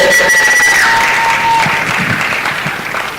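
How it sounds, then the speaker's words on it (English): Loud applause from an exhibition audience rolls on steadily after an introduction, dense clapping that slowly tapers off, with a brief tone and faint voices underneath. "A round of applause for Miss Elizabeth."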